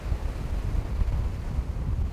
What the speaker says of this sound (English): Obviously, it's a really, really windy day, right?